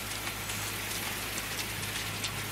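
Rain falls in the horror video game DreadOut as a dense, steady hiss of raindrops pouring evenly throughout, with no talk.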